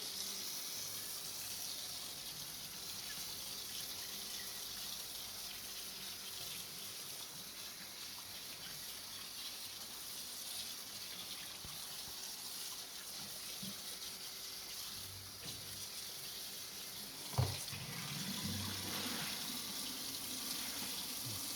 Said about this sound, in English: it's very important that you rinse out all of this dye